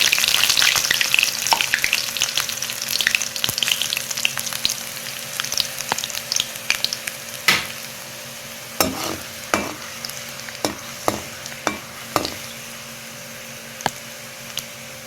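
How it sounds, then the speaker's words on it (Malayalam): Green chillies and dried red chillies dropped into hot oil in a pan, a loud spattering sizzle at first that settles into quieter frying with scattered sharp pops and clicks near the end. "പാനിൽ എണ്ണ ഒഴിച്ച് ചൂടാവുമ്പോൾ നമുക്കിനി ഇതിലേക്ക് പച്ചമുളക് ഇട്ട് കൊടുക്കാം. അതുപോലെ ഉണക്കമുളക് ഇടാം."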